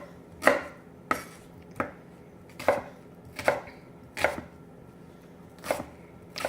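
An onion is chopped with a knife on a board in a home kitchen while cooking pot roast, giving eight sharp, evenly spaced thuds about a second apart, close and clear, with no voices.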